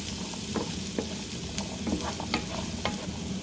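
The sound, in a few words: turnips frying in a pan for keto breakfast hash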